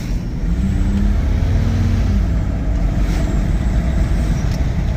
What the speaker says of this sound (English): we'll do a kick down to see what this engine sounds like